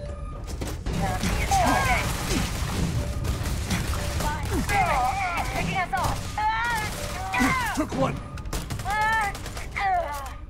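Turret gunfire during a hostage rescue mission in Starfield, rapid bursts of shots sounding through a busy mix of creaking machinery and crashes, with voices talking over the continuous clatter.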